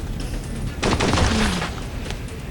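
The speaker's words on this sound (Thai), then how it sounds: "ออกมาเลยข้าจะยิงเจ้าให้หมด" Rapid gunfire bursts in a zombie shooter video game, a short dense volley of shots lasting under a second, moderately loud over a low background hum.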